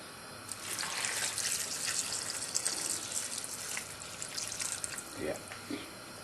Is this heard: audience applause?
no